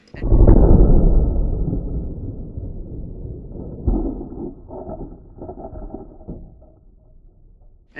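Rifle fire from a Mossberg Patriot Predator in 6.5 PRC fitted with a muzzle brake: a loud opening blast with a long rumbling decay, then a second, weaker report near the four-second mark with sharp follow-on impacts, outdoors at a target range.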